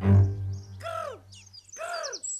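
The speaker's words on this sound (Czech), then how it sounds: "to je přece orel. Orel skalní, veličenstvo ptactva." Golden eagle calls, two clear descending screams about a second apart, loud and close, with a low hum under the first moment and brief chirping between.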